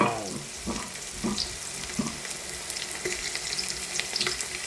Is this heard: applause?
no